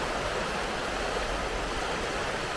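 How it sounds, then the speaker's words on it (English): The fast-flowing River Spey rushes past in a steady, dense broadband roar, close and constant with no breaks or voices. "The river's flowing very fast"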